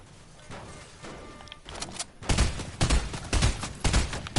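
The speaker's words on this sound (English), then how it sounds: "Whilst he's distracted, I'm gonna shoot at him." Gunfire in a Fortnite-style battle royale: scattered shots at first, then a dense run of loud, rapid bursts in close succession.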